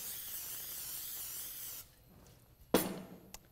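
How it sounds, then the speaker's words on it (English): Non-stick cooking spray misted onto a baking pan in a home kitchen, a steady hiss lasting under two seconds, followed by quiet handling and a sharp clank of the pan being set down. "Spray this down with some non-stick spray."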